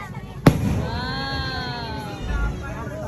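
A sharp firework bang goes off nearby at a church, followed by crackling and fizzing as voices and excited reactions carry on in the background.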